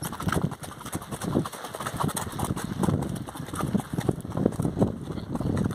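Hooves of a Quarter Horse cross mare on an outdoor ride, clopping in a steady, continuous rhythm with wind rushing over the microphone.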